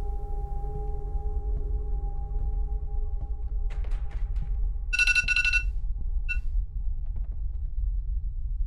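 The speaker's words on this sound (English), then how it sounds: "My phone alarm just went off there." A phone alarm goes off as a bright, high-pitched electronic ringing burst over a steady low hum indoors, brief and clear with no talking.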